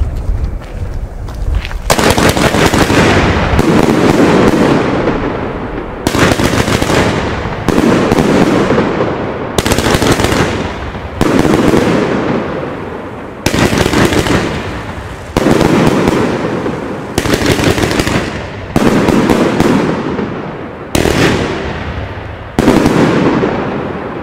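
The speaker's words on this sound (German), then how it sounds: "Jorge Show Fireworks. 30 mm, 36 Schuss." A 36-shot consumer fireworks battery of 30 mm Jorge Show Fireworks fires at New Year's between building blocks, sending loud, booming bursts in a steady rhythm about every one to two seconds, each followed by a crackling tail.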